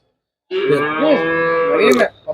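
Native breed cattle at a weekly rural livestock market, one animal giving a loud, close, sustained moo lasting nearly two seconds, with no talk over it.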